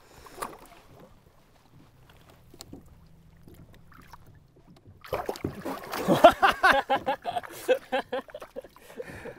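Paddling and water splashing from a kayak on a backcountry musky fishing trip, quiet at first with faint wind, then loud close splashes and sloshing in a busy irregular rhythm.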